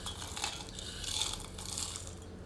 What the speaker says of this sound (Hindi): अब इनको पीसकर एकदम महीन चूर्ण बना लेते हैं।